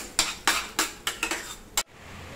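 Egg ghotala, a Mumbai street-food egg dish, being mixed in a pan: six or seven sharp metallic clinks of a utensil against the pan in quick irregular succession, then silence.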